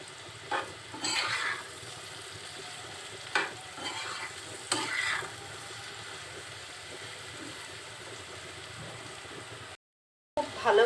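Sliced sponge gourd sizzles in hot oil as a spatula stirs it, with a few scraping bursts over a steady frying hiss, a brief gap of silence near the end before stirring resumes.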